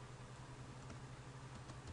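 Faint, quick clicks of typing on a computer keyboard run steadily throughout, sitting low beneath a constant electrical hum.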